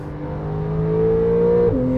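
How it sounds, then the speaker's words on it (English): A Porsche 911 Carrera 4S with a 3-liter, 420-horsepower engine accelerates on a racetrack in a steady, rising engine drone that swells louder, then dips briefly near the end as a gear shifts. "And the engine is just so powerful though."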